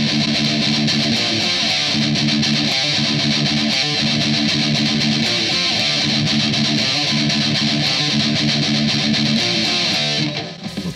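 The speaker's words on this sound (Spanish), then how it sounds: "yo siento y escucho que realmente el riff contiene dos partes, una que toca obviamente a Richard y otra a Paul, pero en diferentes tonos" A heavily distorted electric guitar plays a riff, loud and dense with a steady chugging rhythm throughout, cutting off abruptly at the end.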